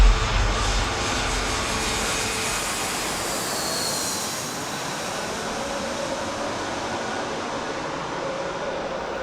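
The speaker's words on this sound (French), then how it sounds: "je regarde les avions à la chaîne atterrir juste derrière le port" Airplanes land one after another just behind a harbour on Koh Samui island in Thailand, heard from a small port bar as a steady, distant jet roar filling the whole stretch, loudest at the start, with no voices.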